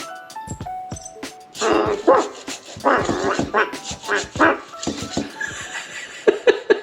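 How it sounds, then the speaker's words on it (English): A dog at home barks repeatedly in short, loud, irregular bursts, with some yips and whimpers. A small robot's chirpy electronic tones come between the barks near the start. "This might get my dog going"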